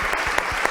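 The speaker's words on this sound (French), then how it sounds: "j'applaudis" Brief burst of clapping from an audience at a conference, a dense patter of hands lasting under a second.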